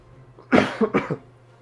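Two quick, harsh coughs at close range, the second slightly broken up, with quiet before and after.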